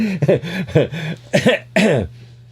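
A rapid series of harsh coughs and throaty gagging sounds, loud and close, coming in quick bursts before trailing off.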